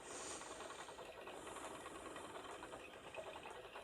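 A spinning wheel treadled at an easy steady pace while spinning lightly textured tweed yarn, a soft continuous whirring hum with faint rhythmic pulsing, quiet and close.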